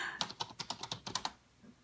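A computer keyboard is typed on in a quick run of about ten crisp, close keystrokes, then stops, with no talking.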